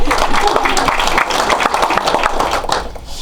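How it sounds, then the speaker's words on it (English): A school board meeting audience gives a loud burst of applause for a new Spanish teacher. The clapping is close and dense, mixed with voices, and tapers off at the end. "give her a round of applause"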